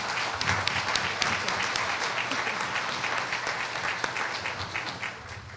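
An audience at a CDI conference keynote applauds for the advisory board: steady, full clapping from a roomful of people, even and sustained throughout before tapering slightly at the end.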